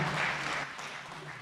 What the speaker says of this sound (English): Just give a big round of applause again for Sister